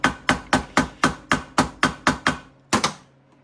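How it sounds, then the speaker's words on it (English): A ball peen hammer taps metal on a rare vintage Maytag engine part, eleven sharp, evenly spaced strikes in a steady rhythm, then a short pause and two quick final blows, close and clear with no talk. "Ball peen hammer, that's how I do it."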